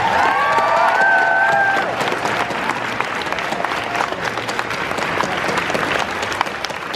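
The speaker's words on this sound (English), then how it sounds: "Let's hear another round of applause for the rest of the team." A large convention audience at a Toontown Rewritten panel claps steadily in a dense, sustained burst of applause, with a whistle or cheer rising briefly at the start.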